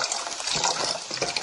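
Carbonated water pours and fizzes in a short burst, a bright hissing gush with bubbly crackle, close and moderately quiet.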